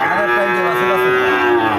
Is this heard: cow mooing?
yes